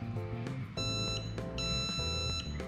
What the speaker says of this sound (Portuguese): Deu dois bips.